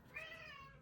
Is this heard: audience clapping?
no